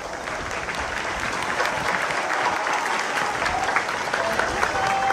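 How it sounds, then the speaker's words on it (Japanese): A crowd applauds steadily throughout at a high school archery tournament medal result, a dense wash of clapping from many hands that keeps up without a break. "東海高校にも温かい拍手をお願いします"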